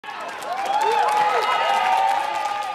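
A crowd at a Social Democrats (SPD) election-night event in eastern Germany cheers and applauds, with a broad, steady wash of clapping and raised voices that swells and holds throughout.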